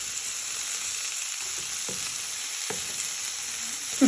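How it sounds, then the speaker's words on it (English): Onions, pepper, garlic and thyme sizzle steadily in a pan, a continuous close frying hiss broken by a few soft scrapes and knocks of stirring. "You give that a little bit of a stir so they start to soften and coat into all our onions"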